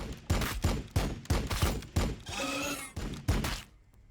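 Rapid volleys of gunfire in the strategy game Warhammer 40k Battlesector, a squad firing on termagants: repeated sharp bursts roughly every third of a second with a brief electronic whine mid-sequence, loud and close, no talk.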